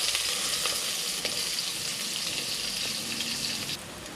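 Onions frying in oil in a pan sizzle loudly and steadily, close up, with a few stirring scrapes and clicks and no voices.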